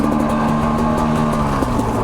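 A Sherco 250 SE two-stroke dirt bike engine drones loud and steady while upshifting to second gear on a downhill trail, a continuous buzzing tone with little variation, close to the rider.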